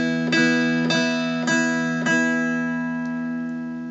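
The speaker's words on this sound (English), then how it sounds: "if I played, say, 5 consecutive notes with the noter down, it would sound like this." Mountain dulcimer played with the noter held down, five plucked notes in steady succession that ring into one another, sustained and bright, alone with no talk.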